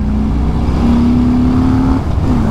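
A 2018 Harley-Davidson Fat Bob 114ci motorcycle accelerating hard to overtake on the road, a loud, close, continuous engine drone with a rising steady tone and wind rush, no talk.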